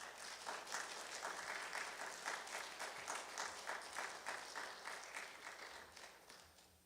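Steady applause from a congregation at a Korean Sunday worship service, welcoming the pastor, fills the room, dense and sustained, gradually tapering off toward the end.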